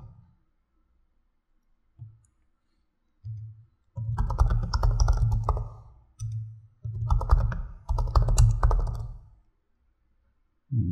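Bursts of rapid keyboard typing come and go in several short runs, clicking steadily and fairly close, with quiet pauses between.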